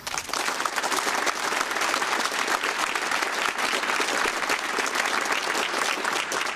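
Applause from a conference audience at PromCon EU 2024, loud and sustained, a dense wash of many hands clapping continuously throughout.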